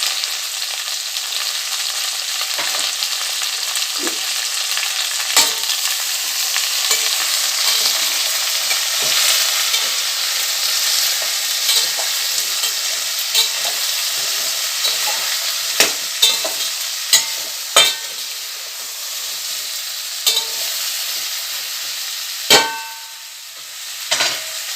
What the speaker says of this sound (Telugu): ఆయిల్లో అన్ని వెజిటేబుల్స్ మగ్గాలి ఫ్రెండ్స్.